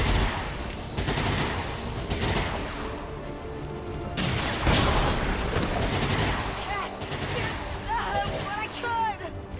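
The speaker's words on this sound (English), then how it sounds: "we'll punch a hole through the entire building with his Shredstorm cannon" A Shredstorm cannon in XCOM 2 fires a sustained, loud burst of rapid gunfire and crashing impacts as it tears through a building, with a voice talking over it.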